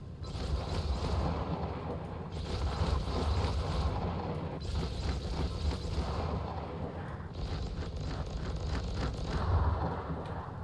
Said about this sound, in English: Let's go ahead and fire the guns. 4 size 3s.